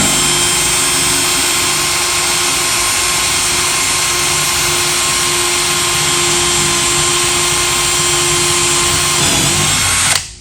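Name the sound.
power drill drilling through toolbox lock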